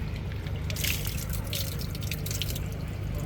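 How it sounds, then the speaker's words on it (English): Water dripping and trickling from a ladle during hand purification at a temple in Ueno Park, Tokyo, a steady patter of splashes close by over low background noise. "We'll take the clean water, then we're gonna hold our hand like that."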